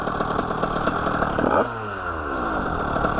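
A 70cc Bidalot moped restricted to 45 km/h rides past, its small two-stroke engine buzzing loudly and then dropping in pitch as it passes and moves away.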